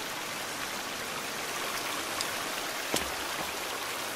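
Steady rain falls in the survival video game The Forest, a continuous hiss of downpour with a few faint drips and small knocks.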